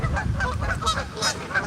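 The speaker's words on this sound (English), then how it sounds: "Man, these geese pretty vocal right now for some reason." Geese honk repeatedly by a pond, a series of nasal calls at moderate distance in a steady, irregular chorus.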